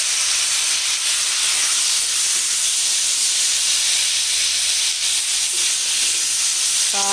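Tomato and green chillies sizzle in hot oil for a coconut-tomato chutney, making a steady, loud, close hiss that holds evenly from start to finish with no talking.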